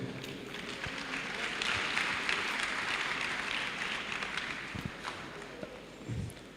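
A seminar audience at an entrepreneurship bootcamp gives sustained, steady applause to welcome the moderator, a broad wash of clapping with a few louder claps near the end.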